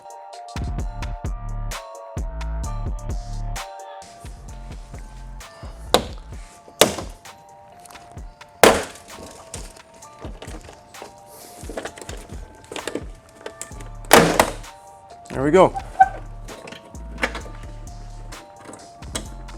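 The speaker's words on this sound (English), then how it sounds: "in that process, you're gonna hear some clips break" Sharp snaps and thunks of plastic trim clips breaking on a Mazda 3, a handful of loud cracks scattered among quieter clicks and handling noise, with a brief spoken remark.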